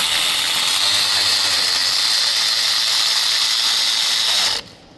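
A ratchet wrench on a Chevrolet Equinox starter bolt gives a dense, continuous, loud clicking buzz close by for about four and a half seconds, then stops abruptly.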